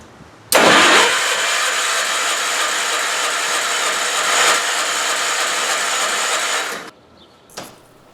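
An Allis Chalmers 310 tractor engine cranks hard on the starter for about six seconds without catching, a loud, steady mechanical churn that stops abruptly, followed by a brief click.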